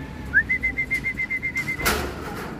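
A racing pigeon arrives at the loft during a sprint race, bringing a steady, rapidly pulsing high tone of about a dozen even beats, followed by a short, loud burst of rustling noise near the end.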